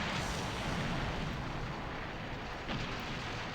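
Explosion in the mech combat game Heavy Gear II from frangible ammunition in an unsuitable barrel, a loud sustained roaring blast filling the whole stretch with dense rumble.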